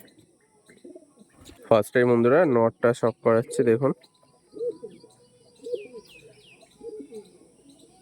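Malwai pigeons coo in low, rolling phrases with faint chirps above, following a stretch of loud male speech.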